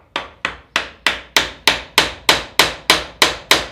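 A hammer strikes a chisel driven into wood to recess a screw head, about eleven sharp, evenly spaced blows, close and loud, each ringing briefly before the next.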